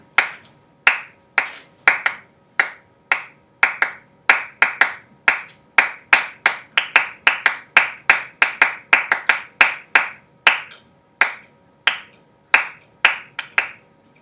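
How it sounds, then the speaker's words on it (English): Crisp hand claps ring out alone in an uneven rhythmic pattern, close and fairly loud, with varying gaps and occasional quick doubles over about fourteen seconds of otherwise quiet room. "it could come across as just a bunch of random claps"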